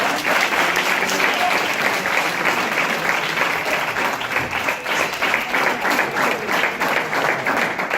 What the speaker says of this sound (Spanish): damos un fuerte aplauso para empezar